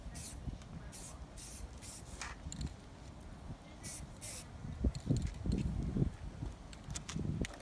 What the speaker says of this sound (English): One more metal spray.